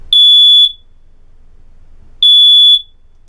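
A household smoke detector rigged as a water alarm gives two shrill electronic beeps about two seconds apart, each a short piercing tone, close and clear in a quiet room.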